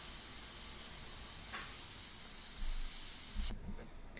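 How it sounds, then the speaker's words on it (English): An airbrush spraying paint on a portrait gives a steady close hiss for a few seconds, then cuts off abruptly, leaving only quieter low background noise. "I'm working with this customer's airbrush that I put together"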